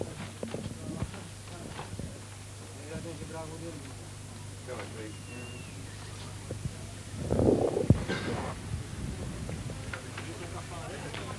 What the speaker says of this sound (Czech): Z lesíka vybíjí jako první Latastr s jezdcem Sikorou